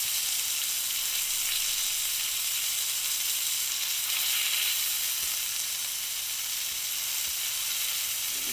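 A grass-fed ribeye steak sears in a pan over very high heat, producing a constant bright, hissing sizzle at close range, fairly even in level throughout, with no voices.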